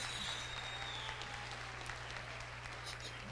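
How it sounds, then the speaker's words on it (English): An audience claps at a rural youth meeting, a soft, steady wash of applause heard from a distance over a constant low hum. "A round of applause, please."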